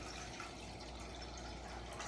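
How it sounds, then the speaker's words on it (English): Water poured into a pot on a lit stove to start a Chinese lion's head pork meatball soup, making a steady, continuous rushing fill sound at low level, uninterrupted and without talk. "Put in water."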